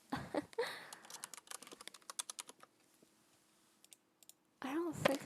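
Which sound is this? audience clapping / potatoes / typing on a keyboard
typing on a keyboard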